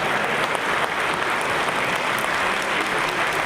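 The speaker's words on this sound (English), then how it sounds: "So please join me with a big round of applause welcoming these two to the stage." Steady audience applause fills a conference hall at a tech innovation festival's opening, dense and continuous clapping throughout with no talk over it.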